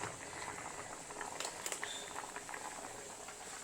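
Raw plantain boils in water in a pot, giving a steady close bubbling and gurgling with a few sharper pops, no talking.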